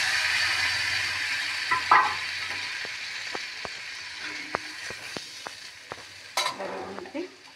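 Food fries in a pan for a fish curry, a close, steady sizzle broken by sharp taps and scrapes of a spoon stirring against the pan, with no one speaking.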